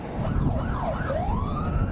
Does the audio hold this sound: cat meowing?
no